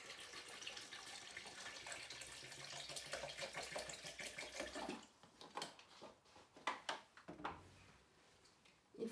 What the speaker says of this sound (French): and then add a little bit of water